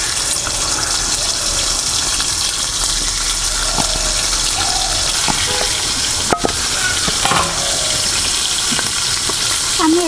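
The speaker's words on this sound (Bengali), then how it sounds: "তেলটি গরম হয়ে আসলে এর মধ্যে আমি চিকেনগুলো দিয়ে দিব।" Chicken pieces crackle and spit in hot oil in a wok, a loud continuous frying hiss with scattered pops and a few sharp clanks of utensils.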